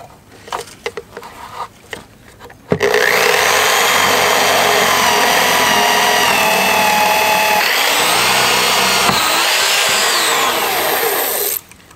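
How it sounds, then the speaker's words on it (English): After a few faint knocks, a power drill starts abruptly and whines loudly and steadily into a wooden workbench table for about nine seconds, its pitch shifting slightly, then stops. "let's just drill into this beautiful table we've been working on."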